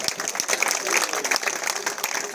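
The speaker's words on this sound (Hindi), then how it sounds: "जरा तालियां बजाएं आप" Audience applause at a community gathering honouring a newly elected waqf board member: dense, fairly close clapping from a crowd, bright and continuous with scattered sharper claps.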